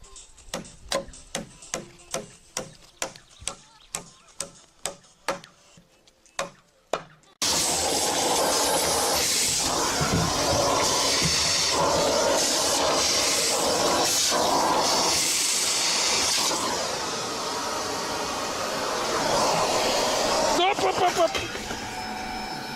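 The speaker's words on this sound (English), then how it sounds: "Vacuum cleaner fell down." A steady chopping rhythm of sharp knocks gives way to a loud, continuous whooshing hiss of a vacuum cleaner running close by for a long stretch after falling down.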